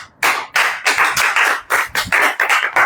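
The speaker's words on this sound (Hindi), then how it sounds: "ताली बजाइए।" An audience at a church sermon claps in a lively, fairly regular rhythm of about eleven sharp bursts of applause, close and loud with no talk over it.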